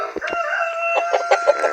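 A rooster crows in a long, drawn-out call while hens cluck in short, sharp bursts around it, all loud and close.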